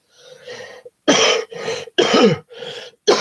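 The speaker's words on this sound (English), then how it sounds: "Sorry about the coughing. I've got a cold." Several harsh coughs from a cold and throat clearings in short bursts, close by, separated by brief pauses, with no talking.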